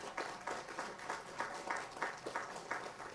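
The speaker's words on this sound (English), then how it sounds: "please give a round of applause to those community members" Faint, distant applause at a library grand opening and dedication, as a crowd claps for task force community members. The clapping comes in light rhythmic pulses and holds steady throughout.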